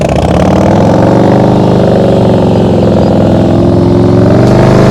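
Motorcycle engine held at low, steady throttle during slow-speed riding drills, a continuous close rumble with slight rises and dips in revs and no voices over it.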